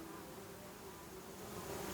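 Honeybees buzz around a hive, a steady, dense drone of many wings close by, holding an even hum throughout with no talking.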